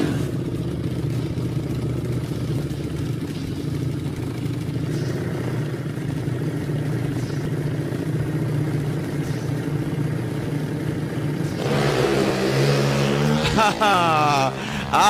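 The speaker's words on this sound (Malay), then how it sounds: "Hari ini kita menyaksikan perlombaan motor." Engines of 4-stroke 110cc Pro Street drag bikes roar steadily at a drag strip, loud and continuous, with rising revving tones near the end as the bikes accelerate down the strip.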